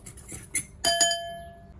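A spoon mixes salt, brown sugar and baking powder in a bowl, giving a few light scrapes and then two bright ringing clinks against the bowl that fade out. The sounds are close and fairly quiet.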